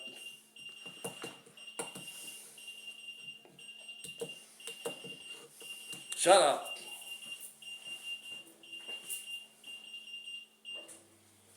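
An appliance beeps repeatedly in a steady high-pitched pattern while a person talks over it, with a sharp louder noise partway through.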